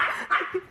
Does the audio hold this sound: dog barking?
yes